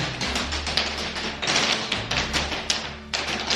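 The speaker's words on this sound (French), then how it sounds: "Ah mais non, c'est de la grêle." Dense, irregular tapping and pattering of hail striking a hard surface nearby, rapid and continuous with small bursts of heavier hits.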